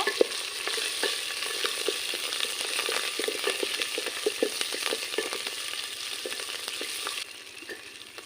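Ginger, garlic and cumin paste fries in oil for a mutton curry, giving a steady close sizzle broken by regular stirring scrapes and clicks. The sizzle grows quieter near the end.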